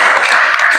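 A class of students claps together, a dense, steady patter of many hands filling the short moment at close range.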